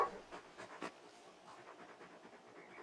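Torgal, the large wolf-like hound in Final Fantasy 16, panting in quick, soft, rhythmic breaths, close up and quiet, with no voices over it.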